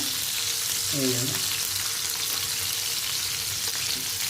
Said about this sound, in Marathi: आपण व्यवस्थित पलटी करून अलटी पलटी अलटी पलटी करून ना आपण हे व्यवस्थित असं भाजून घेऊया